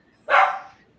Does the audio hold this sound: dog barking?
yes